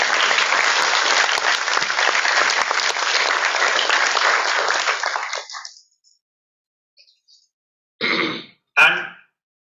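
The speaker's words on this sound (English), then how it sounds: "Please clap for our mother institution." Audience at an institute's foundation day ceremony claps loudly and steadily, then the applause stops abruptly, followed by silence and a few brief bumps and clinks.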